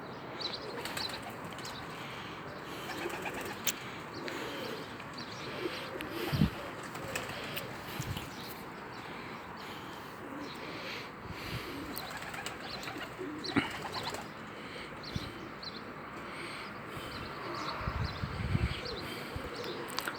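Many pigeons crowded together, with soft overlapping cooing and occasional bursts of wing flapping, close by and continuous with no talk over it.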